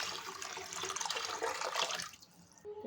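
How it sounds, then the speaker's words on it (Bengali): Broth poured into a pot of red lentil dal gives a steady splashing, gurgling pour that runs for about two seconds and then stops, leaving a faint kitchen quiet with a small clink at the end. "আমি এখন পরিমাণ মতো ঝোল দিয়ে দিব"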